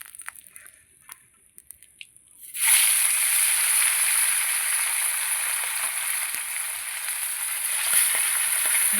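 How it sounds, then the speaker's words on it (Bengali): Khoyra hilsa fish hit hot oil two at a time, bursting into a loud, sustained sizzle close by after a quieter stretch of small clinks and handling noises. "দুটো করে মাছ ভাজবো।"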